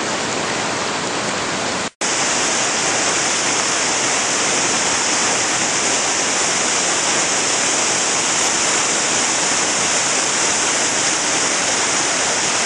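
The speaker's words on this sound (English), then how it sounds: "This little falls comes down and goes into the Chattooga River." A small waterfall spills into the Chattooga River, a loud, steady roar of rushing water heard up close and continuously, broken only by a brief gap near the start.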